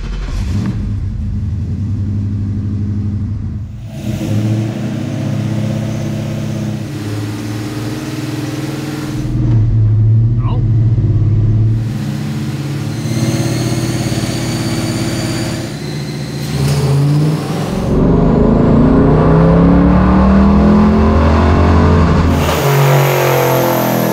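A powerful 7.3L Godzilla V8 in a Fox Body Mustang idles with a deep rumble on a dyno, then revs up hard through a sustained roaring pull before easing off, loud and close.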